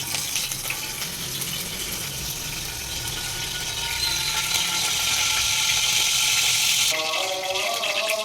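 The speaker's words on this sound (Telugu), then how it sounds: "ఒక 3 పావుల నూనె పోసుకుంటున్నాను." Heated cooking oil poured into a kadai, giving a steady close sizzling and splashing hiss that grows louder midway, then shifts to a crackling fry near the end.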